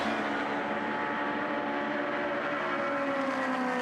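Historic race cars, an Alfa Romeo 1600 GTA and a Mini, race at Goodwood's 74th Members' Meeting. A loud, steady roar of engines holds without a break, with no voices in it.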